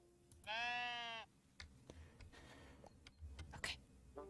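A single loud, wavering sheep bleat from the Tiny Glade building game, followed by faint clicks and soft game ambience.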